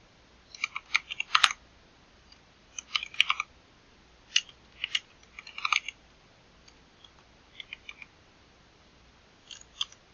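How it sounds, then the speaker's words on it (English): Short bursts of computer keyboard typing, close and fairly quiet, with clusters of quick key clicks separated by brief pauses and no voices. "I'll just type a little bit"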